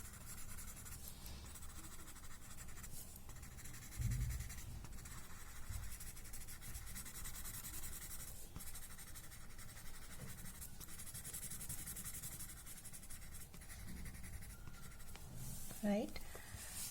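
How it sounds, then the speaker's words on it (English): A graphite pencil scratching across paper while drawing a tangle pattern, quiet strokes that continue steadily for the length of the clip, with a soft knock near the start and another near the end. "Pulling the graphite towards the center."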